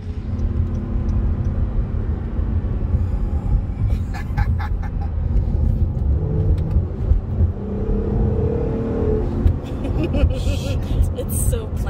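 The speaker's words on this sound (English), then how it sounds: "I wasn't expecting a V6 to sound this good" A 2017 Acura NSX V6 engine pulls hard under acceleration, a steady close rumbling drone with rising whir and road roar throughout, and voices are faintly mixed in at times.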